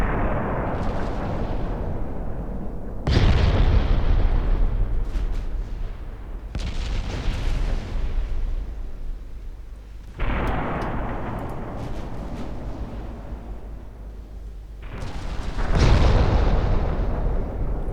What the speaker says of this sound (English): We detonated some ammo.